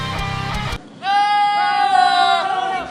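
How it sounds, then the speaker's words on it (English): A goat bleats once, loud and close, in a long wavering cry, right after a brief burst of other noise. "Goats can make a wide variety of noises, but there's no evidence that they can actually mimic human speech."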